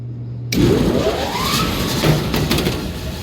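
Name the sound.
belts of direct fired makeup air unit running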